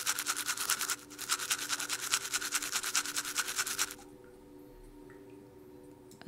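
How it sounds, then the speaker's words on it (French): A toothbrush scrubs teeth in quick, regular back-and-forth strokes, close and bristly for about three seconds with a short break. Then it stops, leaving quiet room tone and a small click at the end. "Il faut que je repose la brosse à dents"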